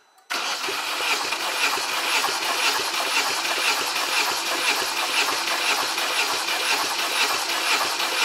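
A 2006 Fiat Stilo Schumacher engine cranking on the starter during a cylinder compression test, a loud continuous rhythmic churn that starts abruptly and runs steadily without firing.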